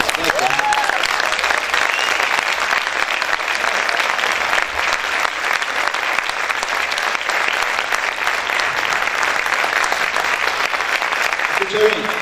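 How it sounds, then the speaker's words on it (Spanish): A church congregation applauds in a dense, steady burst of clapping that carries on for about twelve seconds at an even, fairly loud level. "Esos aplausos como que son medio"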